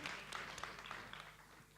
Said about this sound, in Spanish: Bueno, aplaudito.